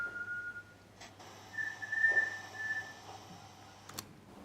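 Short whistle in a church interior, a thin sustained tone rising briefly in the middle, faint and somewhat distant over a low hum, with a couple of sharp knocks around it.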